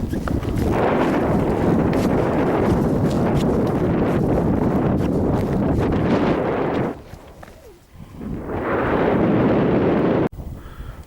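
Strong gusts of wind buffet the microphone at a mountain summit, a loud continuous roar that briefly drops away before surging back.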